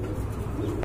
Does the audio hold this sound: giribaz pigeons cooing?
yes